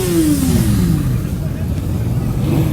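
Police motorcycles arrive for an enduro parade at Le Touquet, with a loud, near engine note that drops in pitch as it passes, followed by a rough, continuing rumble.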